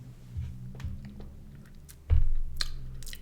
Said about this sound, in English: I'm still gonna munch on this because I still got lettuce wraps, and I still got salsa.